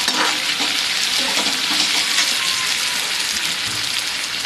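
Kashmiri red chili powder and turmeric hitting hot oil in a pan give a loud, steady, close-up sizzle with a faint hiss of stirring, and nobody speaks.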